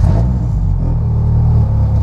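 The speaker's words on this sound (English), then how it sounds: "You don't have to, just start the car." Dodge Neon race car engine at Watkins Glen, a loud, steady low rumble of a running engine filling the whole moment with no clear separate cranking burst.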